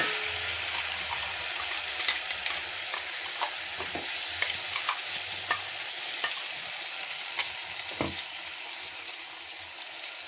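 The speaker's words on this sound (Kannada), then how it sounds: "ಬ್ರಿಂಜಿ ಎಲೆ ಹಾಕಿದ್ಮೇಲೆ ಈ ಪೇಸ್ಟ್ ಹಾಕ್ಕೊಳ್ತಾ ಇದ್ದೀನಿ" Ground spice paste sizzles and fries in a pan after bay leaves go in, with a steady crackling hiss and occasional scrapes and clinks of a stirring spoon.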